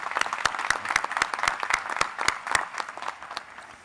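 Audience at a USC Upstate spring commencement applauding university trustees: a crowd claps steadily, crisp individual claps standing out in a brisk, even patter.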